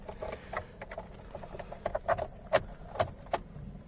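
A Hyundai Aura E base variant key is slotted into the ignition, giving several small metallic clicks and jangles from the key and keyring, close and fairly quiet, with no talking.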